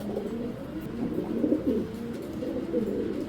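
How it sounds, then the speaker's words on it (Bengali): Racing pigeons coo in a steady, low, throaty rolling murmur that goes on without a break, close and fairly loud over a faint background hiss, with no voices. "তো একদম নতুন কবুতর"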